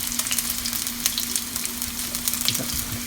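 Chicken pieces stir-fry for a Taiwanese-style dish in a hot pan, giving a loud, crackling sizzle with irregular spatter bursts over a low steady hum.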